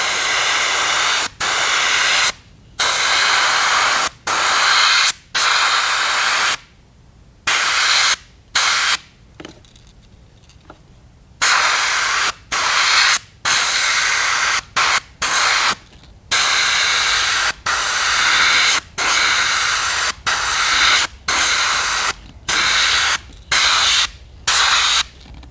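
An airbrush sprays Wicked Gold paint over a fishing bait in repeated loud hissing bursts. Each burst lasts about a second or two, separated by short silences, with one longer pause near the middle.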